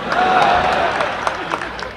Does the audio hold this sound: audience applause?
yes